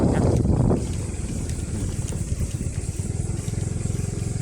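Motorcycle riding into a forest, a steady engine drone with low rhythmic pulsing and wind noise on the microphone, loud and close, with a heavier gust burst at the start.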